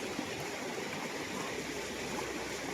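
Fast-flowing stream water near Pollachi in the Anaimalai area, a steady, broad rushing wash that stays close and continuous with no voices.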